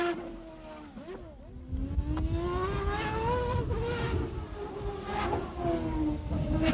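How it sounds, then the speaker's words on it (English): A Cosworth-powered Indy race car from Nigel Mansell's Indycar '94 drones loudly, its engine note wavering and climbing over a rough, rumbling background with no voices. "The familiar bark of the Cosworth engine shatters the still morning."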